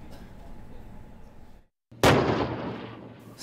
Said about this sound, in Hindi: वो बार बार भारतीय फौजियों को टारगेट कर गोले बरसा रहा है।